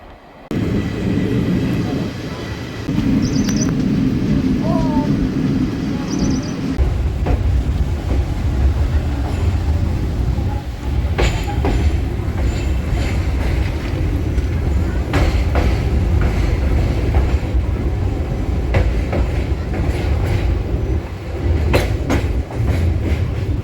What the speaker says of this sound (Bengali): যথারীতি আমাদের ট্রেন 6টা 5 মিনিটে ধানবাদ ছেড়ে তার গন্তব্যের দিকে এগিয়ে যেতে থাকলো।